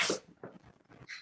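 A single sharp sneeze bursts out at the start, followed by soft breathy snuffles and small sounds close by.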